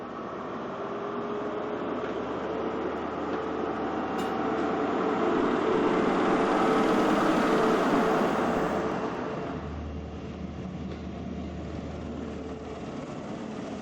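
A train running on a Great Western Railway single-track line, a steady broad rumble that swells as it passes nearest around the middle and then fades, continuous and moderately loud with no voices.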